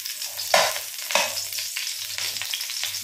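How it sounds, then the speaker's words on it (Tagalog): Butter melting in a frying pan with olive oil, a steady close sizzle with periodic scraping stirs, no talking. "Tunawin lang natin yung butter natin, guys."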